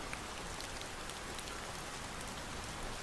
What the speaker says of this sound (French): seulement la pluie qui recommence à tomber